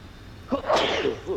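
A single sharp sneeze bursts out, close by, with a short breathy intake before it.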